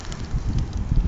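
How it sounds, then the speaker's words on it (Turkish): Steady wind rumbling and buffeting against the microphone at a campsite, a low continuous roar with no voices. "Hava rüzgarlı."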